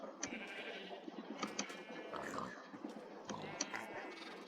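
Sheep bleat in the video game Animal Craft, several faint repeated calls layered together in a soft, continuous stretch, with a voice speaking over them.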